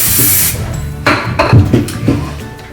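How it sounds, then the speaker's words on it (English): Hairspray sprays onto freshly back-combed hair in a few short hissing bursts, close and fairly loud, with light handling noise between them. "push it in tight, and spray"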